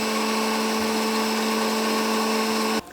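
A repaired kitchen blender runs steadily at full speed with a loud, constant motor whine, then abruptly switches off near the end.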